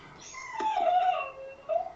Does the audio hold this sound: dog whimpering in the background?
yes